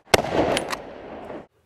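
A single rifle shot cracks sharply at an outdoor shooting range, close and loud, followed by a short rumbling echo that fades out within about a second.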